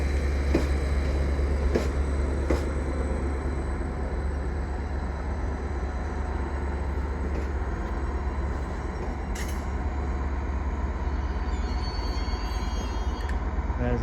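A train pulls into Ipswich station on the Great Eastern Main Line after arriving from Lowestoft, its steady low rumble and rolling wheels carrying loudly through the whole stretch, with brief clanks and a faint high squeal near the end.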